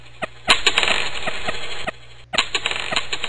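Coins clatter and jingle as they drop in a coin pusher arcade-style video game, a dense metallic shower lasting over a second, a brief pause, then another burst of tinkling drops.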